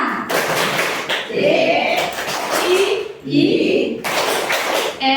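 Bursts of hand clapping from an Indonesian 'tepuk cinta' clap chant in a teachers' session, loud and rhythmic in several groups, with a voice chanting and speaking between the claps.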